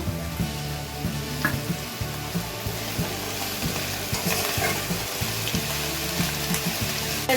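Coriander leaves cooking in oil for pickle give a close, steady sizzle and crackle, broken by repeated scraping stirs of a spoon against the pan, with no voices.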